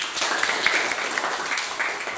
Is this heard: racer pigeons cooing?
no